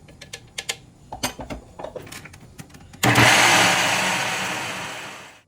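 A blender whirs loudly and steadily, mixing the liquids for a gluten-free bread, after several seconds of clicks and taps.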